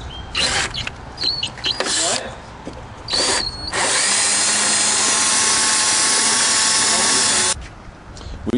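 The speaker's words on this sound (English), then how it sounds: "So we took this and drilled it out." Up close, a power drill whirs in short bursts, then runs in one long, loud, steady grind drilling plastic with a 15/32 bit on a BMW 335i; voices murmur faintly at the start.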